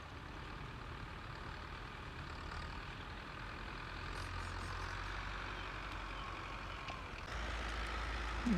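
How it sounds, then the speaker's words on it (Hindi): A tractor engine runs steadily somewhere on farmland in Sindh, Pakistan, a faint, continuous low rumble under outdoor background noise. "यहाँ पे देखें ये ट्रैक्टर चल रहा है।"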